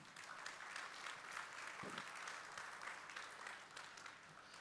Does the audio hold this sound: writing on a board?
no